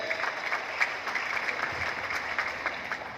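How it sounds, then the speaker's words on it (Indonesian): An audience applauds for the NasDem party secretary-general, Hermawi Taslim, at a political speech gathering: a steady wash of clapping that holds at an even level for about three seconds. "Aplaus dulu untuk Kakak Sekjen."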